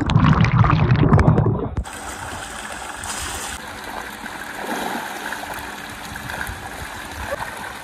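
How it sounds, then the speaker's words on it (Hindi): Water flows steadily near a gate, a continuous broadband rush like a stream that persists alone after a brief burst of louder noise at the start. "ये देखो पानी भर रहा है, इसको रोकते हैं यार इस कॉर्नर से"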